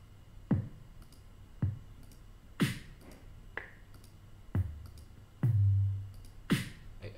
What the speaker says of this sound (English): So if I click on that, I get a range of different hip hop drums.